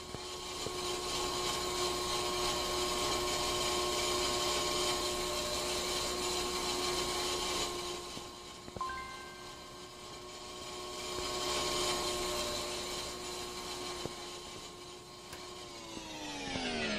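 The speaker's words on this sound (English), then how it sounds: "We'll put that other brake on the lathe." In the Car Mechanic Simulator 2021 game, a brake disc spins on a lathe with a steady, sustained mechanical whine and tonal hum, running continuously for the whole stretch, shifting slightly midway and winding down at the very end.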